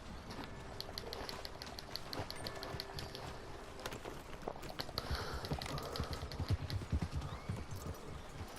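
Horse hooves clip-clopping in Red Dead Redemption 2, a steady run of near hoof strikes at a walking pace with an occasional whinny and ambient game sounds underneath.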